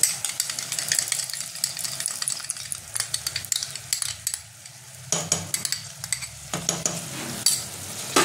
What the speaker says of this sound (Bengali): টক দইটা একটু ফেটিয়ে দেবো।